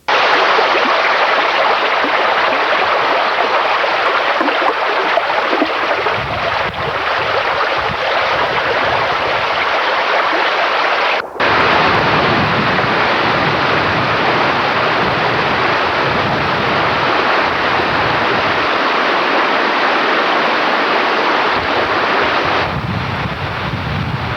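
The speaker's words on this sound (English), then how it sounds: "heavy rains caused a trickling stream to become a raging river" A trickling stream swollen into a raging river by heavy rain, a loud, steady rushing roar of churning water that breaks for a moment midway before resuming.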